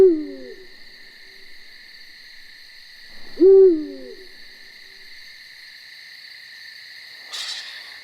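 A male eagle owl gives its deep mating call: two low hoots about three seconds apart, each alone and clear, over a steady high insect-like drone in a night setting.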